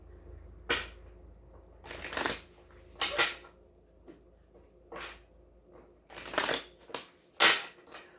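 Tarot cards being shuffled in several short riffling bursts separated by pauses, close and fairly quiet, with no voices.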